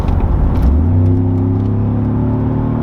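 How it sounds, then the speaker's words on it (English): A Mercedes G63 AMG engine roars and revs as it accelerates, a loud, steady low rumble with rising tone, close by and without talk. "when I put the foot down, it's got like a roar that comes from the engine"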